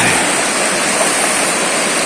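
Steady, loud rushing water with no pauses, a strong river current flowing close by in General Nakar, Quezon.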